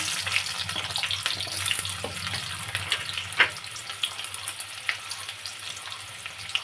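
A split chili, cumin seeds and onion fry in oil with a busy sizzle and frequent small pops and crackles, for a prawn and taro flower dish.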